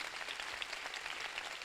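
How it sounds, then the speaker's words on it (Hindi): An audience at a church youth empowerment session claps together in a quiet, scattered patter, steady but faint and somewhat distant, with no voices over it. "परमेश्वर के लिए बड़ी ताली हो जाए"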